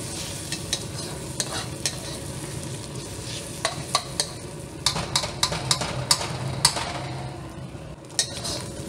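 Eggs are stirred with a spatula in a hot pan over high fire for Cantonese fried rice, a steady sizzle under repeated sharp scraping and tapping strokes that grow busier midway, with no one talking.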